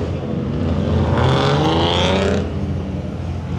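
A drift car rolls in at a street drift event at Biķernieki, its engine a loud, steady drone that swells briefly in the middle and then settles, with no talk over it.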